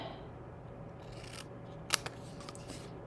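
Scissors cutting paper for a birthday-in-a-box craft make a quiet soft snip and rustle, then one sharp crisp snip, close up and faint in a quiet room.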